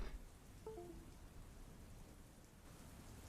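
A rain recording playing quietly, a continuous soft patter and hiss of falling rain with a faint distant rumble, briefly overlaid by a short electronic beep near the start.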